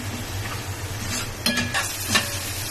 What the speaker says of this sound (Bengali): এবার সুন্দর করে নেড়ে ভালো করে কষিয়ে নেব, একটু ভাজা ভাজা করে।